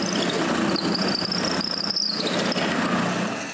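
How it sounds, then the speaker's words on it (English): A drill bores the tilt pivot through two fitted wooden pieces of a handmade tripod, a close, loud continuous motor whine with a high tonal squeal holding steady throughout. "Now I can put both pieces together and drill the tilt pivot."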